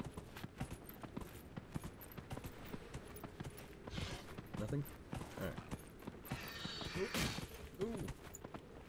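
Horse hooves clip-clop in an uneven walking rhythm in the video game Dragon Age: Inquisition, moderately close, with someone talking over them in brief remarks.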